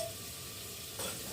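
Masala sizzling in a pan as coriander powder is added for a matar mushroom curry, a steady close frying hiss that brightens briefly near the end.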